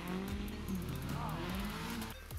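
A stock-power BMW E46 330Ci performs a backwards-entry drift: a loud, close engine drone with tires squealing throughout, the pitch shifting as the car slides.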